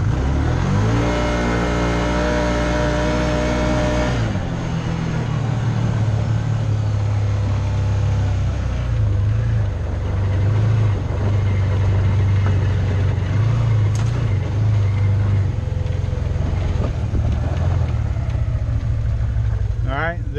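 A Can-Am Commander XT 800R side-by-side makes a two-wheel takeoff: a rising rev climbs for a few seconds, then the engine settles into a loud, steady roar as the machine pulls away, close and continuous.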